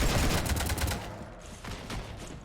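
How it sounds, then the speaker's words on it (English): Sustained video game gunfire rattles against a ship in fast, dense bursts, loud at first, then thinning into separate sharp shots. "You want to stop shooting up my ship?"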